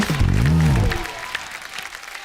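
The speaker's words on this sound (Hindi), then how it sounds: "जोरदार तालियां एक बार संजू सर के लिए।" Applause from a studio audience at a comedy talk show, a dense burst of clapping that starts loud and tapers off over a couple of seconds, with a brief musical swell at the start.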